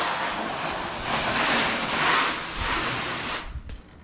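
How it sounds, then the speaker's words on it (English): Water rushes and sprays continuously off a ceramic-coated Ford Mustang EcoBoost during a DIY car wash, a steady loud hiss that swells mid-way and cuts off near the end. "See, the water rolls right off."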